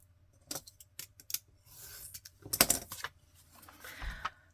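Scissors snip through paper cut from a window envelope, producing several short crisp cuts and a longer slicing pass, close and clear against quiet.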